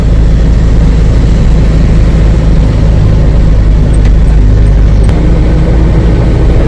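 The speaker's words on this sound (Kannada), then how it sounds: "ಎಲ್ಲ ಕೂಡ ಘಾಟು, ಗಾಡಿ ಹತ್ತುತ್ತಾ ಐತೆ." A vehicle engine labours up a narrow single-lane ghat road through tea and rubber plantations near Agumbe, a loud, continuous low drone with wind rumble filling the whole stretch and no talk.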